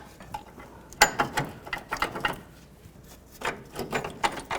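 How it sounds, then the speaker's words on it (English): Small metal washers and an alignment bolt clink and scrape as they are fitted onto the upper control arm of a 1997-2003 Ford F-150, a close series of sharp metallic taps and rattles with a brief pause midway. "you put the slotted washer through, just like this. Then you put the bolt through"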